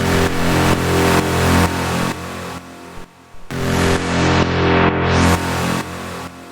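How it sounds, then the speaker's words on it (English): A techno growl synth plays alone as a dense, gritty, buzzing tone in repeated pulsing bars, with a short gap and a closing filtered sweep, loud and steady. "then we have this growl, which sounds like this."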